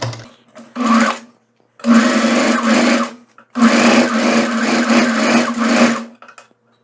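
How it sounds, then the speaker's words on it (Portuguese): Sewing machine stitching a fabric seam joining two pieces for a shorts and blouse set, running in three loud close bursts of rapid mechanical whirring separated by short pauses, with no talking. "Juntando aqui as duas partes, eu passo a costura."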